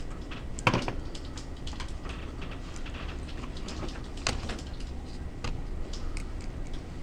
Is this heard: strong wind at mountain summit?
no